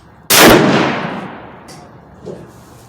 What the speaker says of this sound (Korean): 그냥 왼쪽 밑 타겟에 세 발 쏘겠습니다.